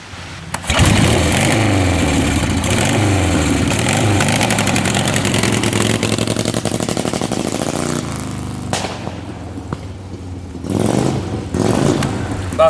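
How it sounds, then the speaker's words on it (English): A 1955 Harley-Davidson KR750 race motorcycle engine fires up and runs loud and close, a steady raw rumble with blips of revving near the end and no talk. "what a pleasure it is to start and run this bike every year"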